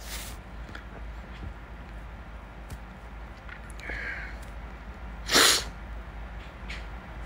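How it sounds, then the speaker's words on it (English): A single sharp sneeze bursts out near the end amid quiet room noise, preceded by a few faint clicks and small movements. "Oh my God, just sneezing."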